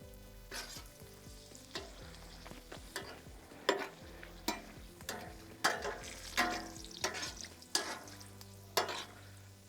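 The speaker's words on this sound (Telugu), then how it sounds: "ఇదే నూనెలో మనం ఎండుమిర్చి కూడా వేపుకుందాం." Dried red chillies fry in oil, a crackling sizzle punctuated by repeated sharp scrapes and knocks of stirring in a steady rhythm, close and fairly quiet.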